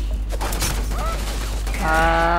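In the video game Starfield, gunfire crackles as a quick burst of shots, with a voice speaking over it and a tonal game effect rising at the end.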